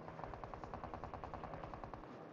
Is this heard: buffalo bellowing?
no